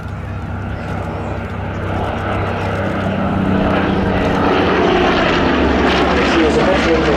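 A Supermarine Spitfire flies past at an air festival, its piston engine producing a loud, steady propeller drone that swells toward the end, with a voice commenting over it.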